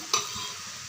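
A single short scrape of a spoon through banana flower curry as cooked chana dal is mixed in, over a steady soft sizzle from the pan that continues alone.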